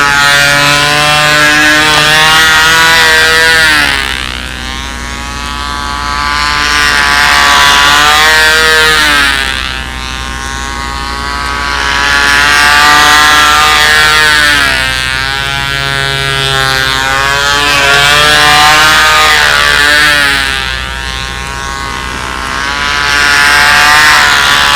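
An ignition engine on a control-line model aircraft runs at a fly-in on a 60-foot circle, a loud, steady, buzzing drone whose pitch rises and falls in regular sweeps as the plane laps around.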